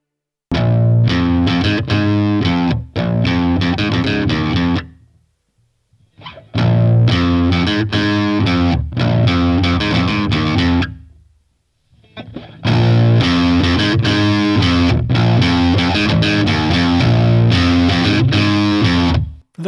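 Electric guitar played through a BOSS DS-1 distortion pedal, with loud, saturated chords ringing out in three bursts separated by short silent gaps, heard alone.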